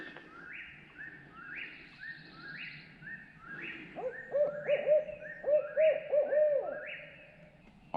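An owl gives a repeated series of rhythmic hoots, joined by a second, higher, wavering call in the middle. The calls come from a moderate distance in a quiet Tennessee woodland at turkey-hunting time, with no talking.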